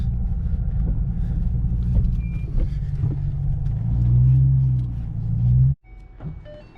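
A Ford Shelby GT500 with a swapped-in Trinity engine fires up for the first time after the swap, a deep rumbling idle that builds, then cuts off abruptly before a brief restart murmur.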